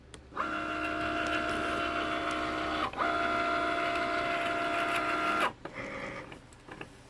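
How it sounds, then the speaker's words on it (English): A Cricut cutting machine runs with a steady mechanical whir and tonal motor hum, a brief pause near three seconds, then stops with lighter clicks and movement. "your Cricut turns on its magic."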